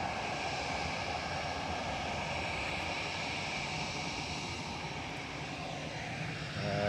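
Aer Lingus airliner arriving at Manchester Airport from Dublin, a steady broadband engine roar heard at a distance that holds fairly even throughout, with no voices over it.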